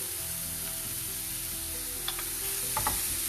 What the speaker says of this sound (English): Let's saute these onions till they become golden brown.